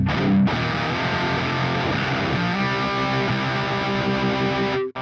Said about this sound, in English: let's see what balance of grind and DS1 distortion we can get